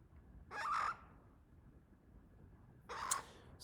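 A rooster lets out two brief, harsh calls a few seconds apart, faint and somewhat distant against a quiet background.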